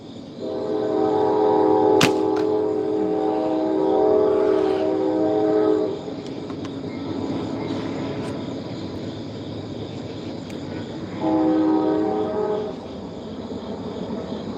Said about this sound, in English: Sorry about the trains, guys.